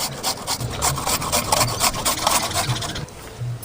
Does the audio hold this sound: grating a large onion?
yes